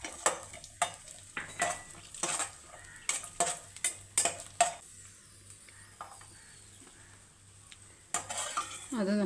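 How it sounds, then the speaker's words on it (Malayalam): Cashews and raisins frying in ghee for a nendran banana payasam, with a spoon clinking and scraping against the pan in bursts of stirring over a soft, steady sizzle. "ഇനി നമുക്ക് അണ്ടിപ്പരിപ്പ് മൂപ്പിച്ചെടുക്കാം. അതിൽ കൂടെ നമുക്ക് നമ്മളെ മുന്തിരിങ്ങയും കൂടെ ഇട്ട് കൊടുക്കാം."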